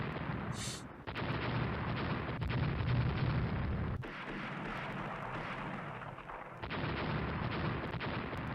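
14-inch naval guns firing in the Rule the Waves naval game, playing as France, make a sustained deep roar that swells at several points, with heavy booming bursts that overlap into a continuous rumble.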